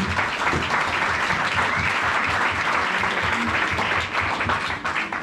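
A church congregation breaks into loud, sustained applause, dense steady clapping from many hands filling the room with little pause.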